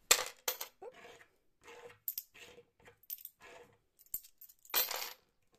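Coins drop into a small box in a quiet room, a series of separate metallic clinks and jingles at irregular intervals, ending with a louder rattle.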